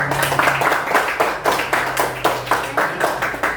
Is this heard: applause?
yes